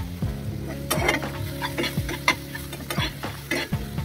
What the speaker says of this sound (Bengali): দেখো টমেটো আর ক্যাপসিকাম গুলোকে একদম ভালো করে ভেজে নিচ্ছি।